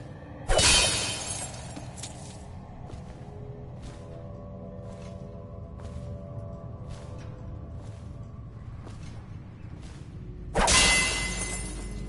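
Glass shatters loudly in the stealth game Dishonored, a sharp crash followed by a quiet stretch of soft ticking and ambient hum, then a second burst of breaking glass at the end.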